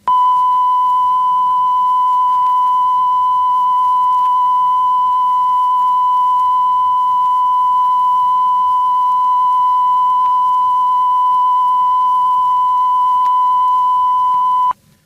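A steady 1,000 cycle CONELRAD emergency broadcast tone, a single pure note held loud and unbroken for about fifteen seconds over faint background hiss, then cutting off abruptly.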